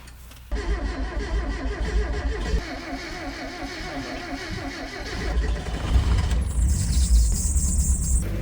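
Mazda Miata engine with a misfire history cranking and catching on a cold start, then settling into a rough, close-up idle that rises slightly near the end.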